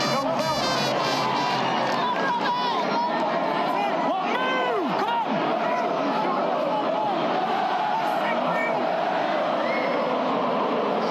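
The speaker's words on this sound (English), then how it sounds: "Everybody in the stadium standing to applaud Rob Burrow." A packed rugby league stadium crowd at Headingley rises to applaud a Leeds Rhinos player during a match against Bradford Bulls, a dense, sustained roar of clapping and cheering with chanting voices, with no gaps across the whole stretch.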